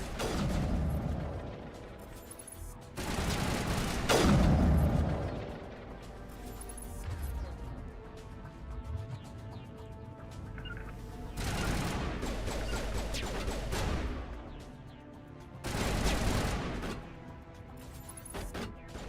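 Gunfire in the Mass Effect Legendary Edition video game comes as several loud bursts of rapid shots and crashing impacts, separated by quieter stretches of game ambience and mechanical sounds.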